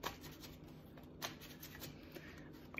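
A deck of tarot cards being shuffled by hand for a weekly reading, a steady close riffle and slide of card stock with a few sharper flicks, alone with no talk.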